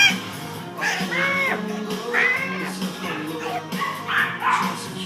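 A schnoodle puppy, a schnauzer–poodle cross, gives repeated high yips and whimpers close by, in short rising cries over steady background noise.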